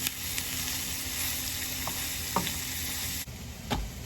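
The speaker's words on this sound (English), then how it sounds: "while my onions are caramelizing in there" Onions caramelizing in a pan for albondigas soup give a steady, close sizzle with occasional stirring scrapes, continuing alone without talk.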